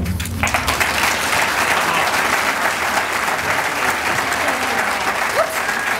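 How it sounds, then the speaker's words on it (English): A large audience at an awards ceremony breaks into steady, sustained applause after an acceptance speech, dense clapping filling the space evenly throughout. "Applause, applause, applause."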